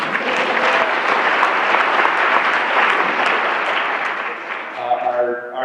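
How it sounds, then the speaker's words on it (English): School staff audience at a district meeting applauds academic olympiad wins, a full, steady burst of clapping with some voices mixed in, easing off as a speaker begins talking near the end. "Yeah, that's one you can clap for"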